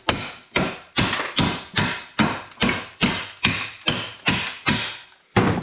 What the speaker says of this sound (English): you're going to pound them out with a hammer